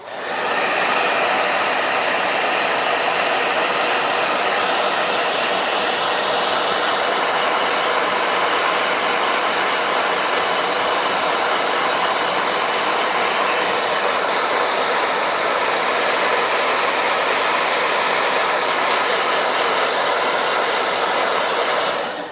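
A blow dryer runs nonstop for over twenty seconds while drying paint on a journal page, a loud, even, breathy roar with no pauses and no voices.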